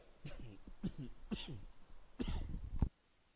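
A person coughs hard and repeatedly, four or five harsh bursts close to the microphone in a quiet room, with no talking.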